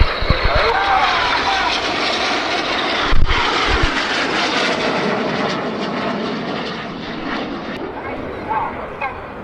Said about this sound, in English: These 4 aircraft now descending to 100 feet.